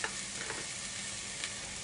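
Onions, spices and pumpkin cubes sizzle steadily in a pan, a continuous bright frying hiss with a few soft stirring scrapes and no speech.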